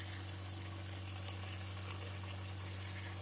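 Flood coolant from a cheap coolant pump setup sprays hard with a hissing, splashing wash over a steady low pump hum, with small irregular spatters throughout.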